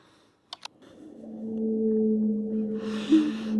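Whale song sounds as a long, low, sustained tonal moan with a rising swoop near the end, preceded by two brief clicks and ending under a soft breathy hiss.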